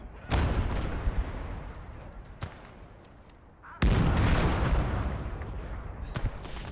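Heavy booms and gunfire roll through a battle in Call to Arms: Gates of Hell, with a sharp blast early, a quieter lull, then a loud impact and sustained rumbling barrage.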